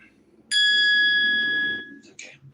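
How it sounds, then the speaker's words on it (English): A single electronic bell tone rings out clearly during a live stream, a bright sustained chime lasting over a second and fading, with faint background voices around it. "Hold on, let me get the bell sound."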